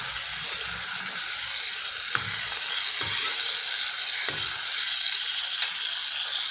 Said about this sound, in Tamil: இதோட கொஞ்சம் வதங்கி இந்த தக்காளி நல்லா வெந்து வரட்டும்